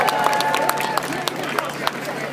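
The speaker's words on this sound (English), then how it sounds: "Please join me in giving them all a round of applause." Audience applause at a rally in Chicago, moderately loud clapping with a few sharper individual claps standing out and a murmur of crowd noise beneath.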